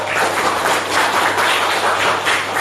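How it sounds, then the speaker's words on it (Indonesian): Students in a classroom clap for a presenting group, a short burst of brisk, fairly loud applause in gentle waves. "Tepuk tangan untuk kelompok 2"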